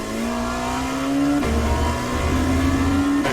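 A Dallara P217 LMP2 race car in iRacing holds first gear, a loud steady engine drone that rises in pitch, drops at a brief shift-like break and climbs again, with a sharp change near the end.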